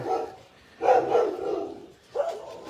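A dog barks three times at moderate distance, deep rough barks spaced about a second apart with quiet gaps between.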